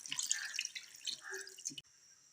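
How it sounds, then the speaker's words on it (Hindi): Water poured into a pot over half a chicken, a trickling, dripping stream that runs for under two seconds and then stops abruptly. "यहाँ पे मैं डालूँगी 1 लीटर पानी।"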